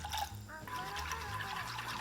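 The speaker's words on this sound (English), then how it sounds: "in a small pot over medium heat, pour in the chicken stock, soy sauce, mirin, and sake" Chicken stock, soy sauce, mirin and sake pour into a small pot over medium heat, giving a steady close liquid splash and trickle throughout, with no voice.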